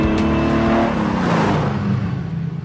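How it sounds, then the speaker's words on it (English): The engine of a 1950s Formula One car, fitted out to be road legal, roars loudly up close as it is driven, holding a steady, rumbling drone that eases slightly toward the end. "I'm driving a 1950s Formula One car."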